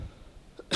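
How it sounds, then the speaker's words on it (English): A single sharp cough from a man who has been fighting a lingering cough for weeks, bursting out loud and close at the end after near silence. "just that annoying cough that just won't go away after like weeks"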